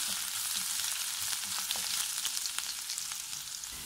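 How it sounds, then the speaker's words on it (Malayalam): Finely chopped ginger and garlic, about four or five garlic cloves, sizzle steadily in hot oil in a pan, a close and continuous frying crackle with no voices. "ഇതൊന്ന് നമുക്ക് മൂപ്പിച്ചെടുക്കണം"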